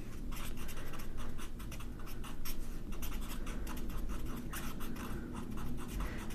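A colored pencil writes on paper with a steady, faint, continuous scratching of close strokes that runs without pause.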